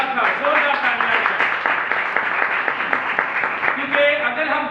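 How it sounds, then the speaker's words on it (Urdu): A church congregation breaks into sustained, dense applause during a sermon, steady clapping filling the room throughout with a voice briefly rising over it near the end. "زوردار تالیاں"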